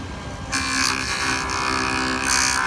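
A JOOLTOOL rotary polisher buzzes against the edge of a silver bezel in a short, close pass. Its whine shifts brightly in bursts as the workpiece presses on.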